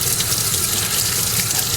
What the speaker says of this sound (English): you have to do this under running water